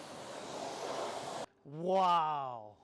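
Water spraying and rinsing cleaner off car tyres during a wash, a steady broad hiss for about a second and a half, then a pause before a voice speaks.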